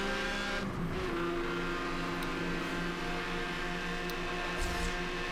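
Racing engine of a Porsche in Need for Speed Hot Pursuit Remastered, a steady loud drone throughout with brief tire-scrub and skid bursts near the start and end.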